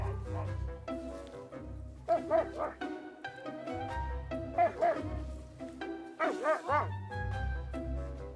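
Svalbard huskies bark and yip in a loud, close, excited chorus, with whining and whimpering rising between the barks, no speech.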